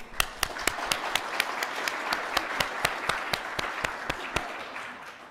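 Audience applause at an academic panel session on Indonesian studies, steady dense clapping with a few sharper individual claps standing out, sustained throughout without speech.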